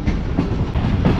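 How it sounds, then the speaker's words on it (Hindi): Karakoram Express train rolling slowly on the loop line into Bahawalpur railway station, a close, loud rumble of wheels with rhythmic clickety-clack over rail joints. "प्लेटफॉर्म लाइन यानी लूप लाइन पर आ चुके हैं हम और आहिस्ता आहिस्ता अप्रोच बना रहे हैं भावलपुर रेलवे स्टेशन पर।"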